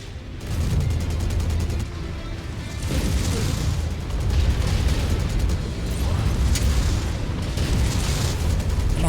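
Missile explosions in the mech combat game MechWarrior 5, repeated booming blasts and rumbling impacts layered over a constant heavy low drone of battle noise, loud and dense throughout.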